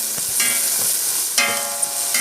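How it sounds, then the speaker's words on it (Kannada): Onions fry in oil in a kadai for gobi manchurian sauce, giving a steady hiss with a few short scraping strokes of stirring. "ಇತ್ತೆ ನಮ್ಮ ಸೋಸ್ ಫ್ರೈ ಮನ್ಪುಗ"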